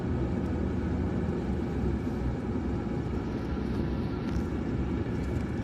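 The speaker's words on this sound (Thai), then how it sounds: "มีเครื่องบินด้วยนะครับสวยงาม" A continuous broad engine roar of an airplane passing overhead at Dong Tan Bay on the Thai coast, steady and fairly loud throughout with no talking.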